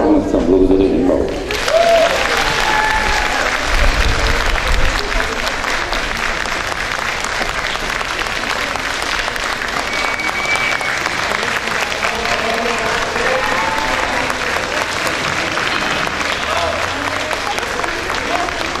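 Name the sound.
enthusiastic audience applause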